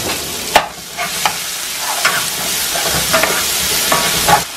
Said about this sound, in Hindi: जल्दी जल्दी इसको चला देंगे नहीं तो मसाला जल जाएगा